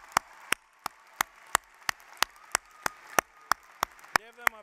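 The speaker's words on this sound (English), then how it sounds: "Give your parents and all your family a big applause." A small number of people clap slowly at a university undergraduate commencement ceremony, giving spaced, individual claps at a steady rhythm. The claps are sharp but thin against a quiet hall, and a short voiced sound enters near the end.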